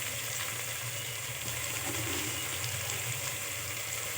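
Tomato, onion and rock salt sautéing in a pan for a dried-fish curry, giving a steady, even broadband sizzle that holds at one level throughout, with no talk.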